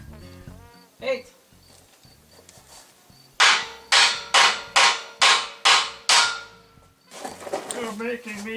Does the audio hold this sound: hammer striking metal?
yes